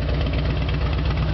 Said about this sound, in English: Vance and Hines exhaust sounds fantastic